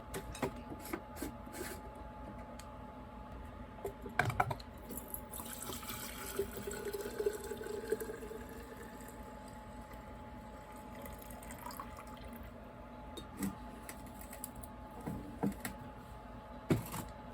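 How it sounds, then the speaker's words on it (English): Fuel pours and trickles steadily out of the tank of a Homelite string trimmer, a soft continuous liquid stream close by with scattered clicks and handling knocks throughout. "Let's quickly pour this fuel out because it's dripping out of the fuel cap."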